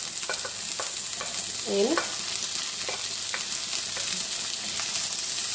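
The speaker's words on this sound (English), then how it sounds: "So now I'm going to add the tomato and the onion" Chopped tomato and onion sautéing in a pan for a meatless stir fry, a soft steady sizzle with a few stirring scrapes and clinks, close and continuous, with no talking over it.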